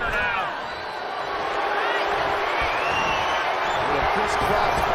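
A wrestling arena crowd in the video game WWE 2K23 during a WrestleMania match, a loud, dense, continuous roar of cheering and whooping that fills the whole stretch.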